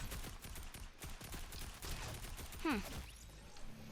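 Rapid bursts of gunfire from a one-shot gun video game crackle continuously, with dense overlapping shots and a quick sweeping whoosh near the end, loud and close throughout.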